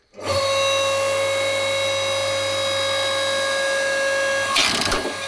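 AL-KO LSH 520/5 electric horizontal log splitter working dry hornbeam: a steady loud motor whine with strong tonal hum runs throughout, ending in a short sharp crack as the wood splits.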